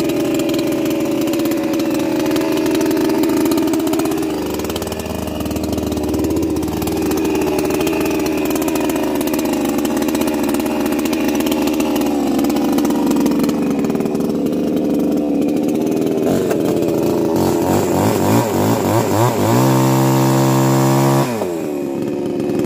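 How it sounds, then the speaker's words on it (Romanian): A chainsaw runs loud and close for over twenty seconds, its engine droning and shifting pitch before revving up sharply near the end, with no talk over it. "poți să folosesc un pic drujba?"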